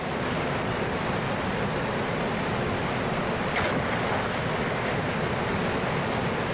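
Niagara Falls roaring in the 1953 film Niagara, a dense, unbroken wash of thundering water that stays loud and constant throughout.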